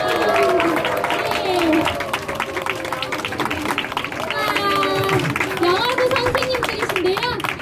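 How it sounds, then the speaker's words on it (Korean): Children and adults clap loudly in a church nursery department gathering after a teachers' skit, a dense burst of applause mixed with cheering kids' voices and an adult talking throughout. "우리 박수로 환영할게요."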